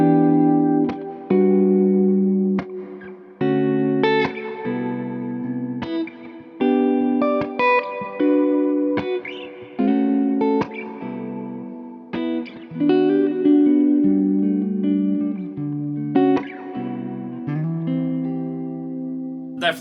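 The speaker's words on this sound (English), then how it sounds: "I'm going to start on the neck pickup and just play some nice jazz chords." Clean electric guitar on the neck pickup of a Gibson Trini Lopez '64 Custom strums a series of rich jazz chords, each ringing out and decaying before the next, at an unhurried pace.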